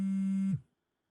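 A mobile phone sounds a single steady electronic tone about half a second long, loud and close, then cuts off into silence, with no talk around it.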